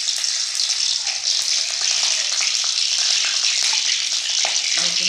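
Green chilies and cumin fry in hot oil, a loud, continuous crackling sizzle close by with brief spatters and a faint stir near the end.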